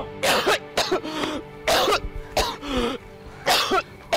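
Repeated heavy, harsh coughing in close bursts, six or so rough hacks in quick succession, loud and nearby with no talking.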